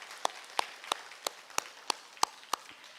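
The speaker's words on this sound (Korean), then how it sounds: "이 시간 우리 하나님께 감사의 박수 한번 올려드리도록" In a church service, a few slow, evenly spaced claps ring out one at a time, sharp but fairly faint against a quiet room.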